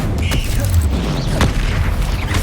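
Fiery blast spell cast in the Hogwarts Legacy video game, a dense booming burst over steady game ambience and clanking mechanisms, with low rumble throughout and a sharper crack near the middle.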